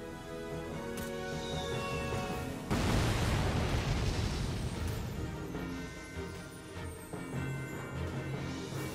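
Tanks exploding in the Valkyria Chronicles 4 video game, with a sudden loud burst of blast noise around the middle rising over a steady bed of game music and effects, then a decaying rumble.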